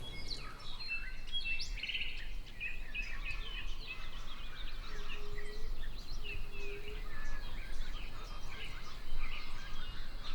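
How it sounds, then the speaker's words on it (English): Morning birdsong by a lake in the remote borderlands of Chiapas, many birds chirping and calling in overlapping bright phrases, some near and some farther off, over a soft steady ambient hum. "we woke to what might have been the most incredible birdsong we've ever heard"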